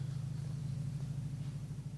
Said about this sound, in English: that's a helicopter going over my house